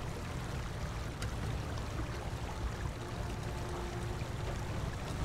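A truck in Snowrunner pushes through deep water, giving a steady, dense churning and sloshing rush that holds evenly throughout with no talk over it.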